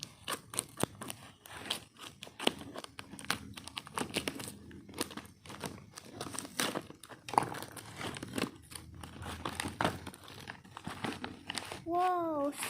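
Plastic packaging on a jigsaw puzzle and coloring set crinkles as scissors cut it open, giving sporadic close crackles and snips with pauses between them, and a rising squeaky sweep near the end.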